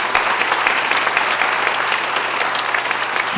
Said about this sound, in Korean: 우리 한번 더 감사한 마음 박수 부탁드릴까요?